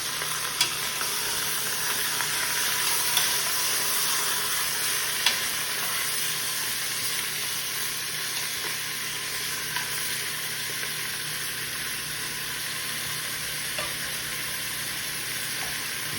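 Oxtail meat sizzles in a hot pot while it is stirred, a continuous crackling fry with small scattered pops and scrapes, steady and close.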